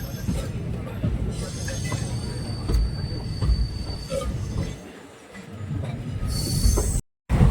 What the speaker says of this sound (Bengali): আমাদের ট্রেন এখন জয়পুর থেকে ছেড়ে দিয়েছে।